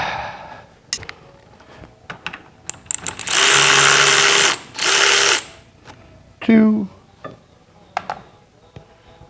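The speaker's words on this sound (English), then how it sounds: "We're going to get power tools in a second." A power drill whirs loudly in two short bursts, followed by a brief high-pitched mechanical whine, with clicks and handling noises around them.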